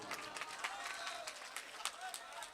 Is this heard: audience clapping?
yes